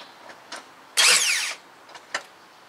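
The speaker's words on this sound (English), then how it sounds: "And then give it a quick kick for the starter." A Toyota Corolla starter motor, powered straight from the battery terminal, gives one loud half-second whirring crank, with small clicks just before and after in an otherwise quiet engine bay.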